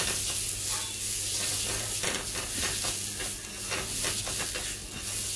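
Shallots, garlic and ginger fry in a hot pan during a cooking masterclass, giving a steady, dense sizzle with soft stirring scrapes throughout and no voices.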